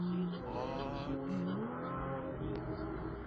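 Porsche 981 sports car driving past with BMW 335 and M3 cars nearby, a loud engine roar with shifting pitch and a brief tire chirp, heard close and continuous, with faint voices underneath.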